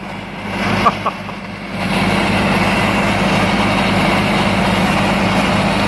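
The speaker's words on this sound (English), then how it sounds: "the mighty 1086 running that big PTO auger" A Case IH 1086 tractor drives a large PTO grain auger while a truck is loaded with canola, its engine droning steadily and loud under heavy load after a brief lull and a couple of knocks.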